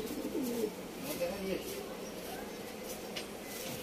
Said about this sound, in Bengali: আরেকটি পায়রা দেখুন, এটাও লংদমা পায়রা